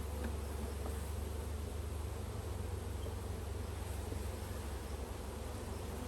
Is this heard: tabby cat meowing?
no